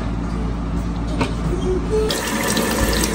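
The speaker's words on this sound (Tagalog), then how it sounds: "So, ato ning hugasan ning kamatis." Tap water runs steadily into a kitchen sink while tomatoes are washed, a loud, continuous hiss and splash with no pauses.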